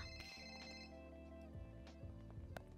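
A phone ringtone sounds inside the GTA RP video game, a steady electronic tone pattern running across the whole short stretch, fairly loud against faint game background and no talk.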